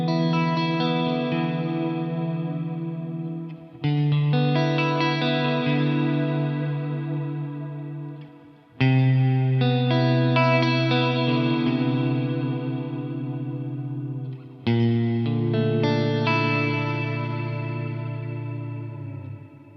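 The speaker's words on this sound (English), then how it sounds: "I've got my Mercury 7 reverb pedal plugged into the effects loop of the Astro-20" Four sustained clean electric guitar chords through a Soldano Astro-20 amp with a Mercury 7 reverb pedal in the effects loop ring out one after another, each swelling with lush reverb and slowly fading before the next strum.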